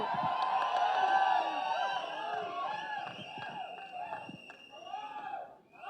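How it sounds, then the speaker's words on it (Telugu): Crowd at a movie glimpse launch event cheering and whooping as a film composer is called up, with loud shouts and whistle-like cries over faint clapping that tapers off near the end. "రిక్వెస్టింగ్ రవి బసూర్ గారికి ఒక్కసారి గట్టిగా చప్పట్లు"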